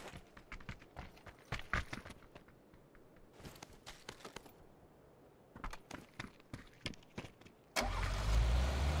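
A wheel-less car in PUBG scrapes and clunks along in repeated metallic bangs and knocks, with short pauses between them, then a loud, continuous rumbling engine roar starts near the end.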